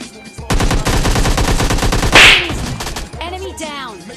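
Rapid automatic gunfire in the mobile battle royale game PUBG Mobile Lite, a loud sustained burst of dozens of shots followed by a sharp impact and fading electronic effects, with no talk.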